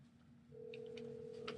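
A faint telephone ringback tone starts partway through and holds steadily while a radio show calls a guest, with small clicks and soft noises over a quiet background hum.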